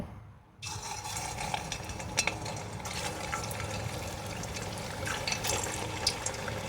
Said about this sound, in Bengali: এবার আমি এগুলো কড়াইতে তেল দিয়ে খুব ভালো করে ভেজে নেব